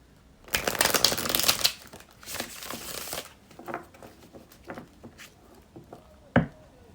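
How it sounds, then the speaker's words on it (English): A deck of tarot cards is cut and shuffled up close, with bursts of riffling and papery flicks, followed by softer taps and card slides and one sharp snap near the end. "I'm cutting the deck and I'm seeing such beautiful cards."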